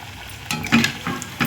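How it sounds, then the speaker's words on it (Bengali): Banana flower chops frying in hot oil, a steady sizzle broken by a few scraping stirs of a utensil against the pan, close and alone. "ভাজা হচ্ছে"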